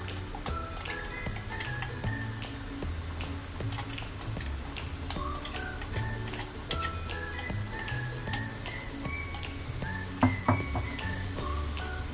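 A spoon stirs mango rayta with ground spice paste through sizzling tempering in a pan, giving a steady fry hiss broken by frequent light ticks and scrapes against the metal, with one louder clatter near the end.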